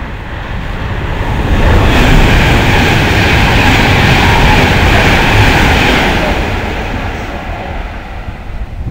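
Class 350 electric train 350-242 running the 14:02 Crewe to Euston service passing at Nuneaton, a loud broad rushing roar that builds, holds steady and fades away, with no talk.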